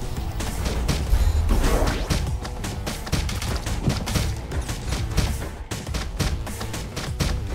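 Rapid, dense gunfire and impact bursts from the roguelike video game Galactic Glitch, loud repeated shots and crashes in quick succession with no talking over them.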